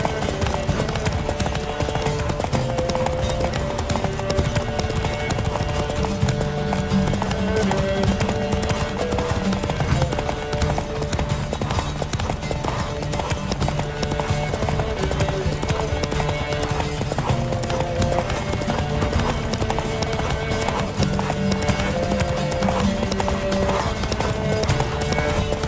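Horses gallop in a Witcher 3 race, with steady, continuous clip-clop hoofbeats and occasional whinnies over game music and ambience, loud and close throughout.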